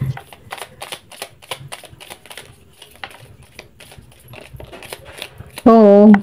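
Tarot cards are shuffled in quick, rapid riffling flicks and soft slaps, close and fairly loud, ending with a sudden loud burst of voice.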